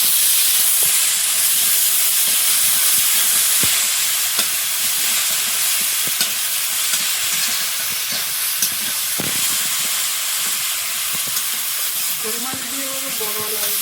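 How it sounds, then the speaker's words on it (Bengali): Chopped onion and ginger-garlic paste fry in hot oil for a taro curry, a loud steady sizzle broken by scattered clicks of stirring, with a brief voice near the end. "পেঁয়াজ কুচি, আদা রসুন বাটা।"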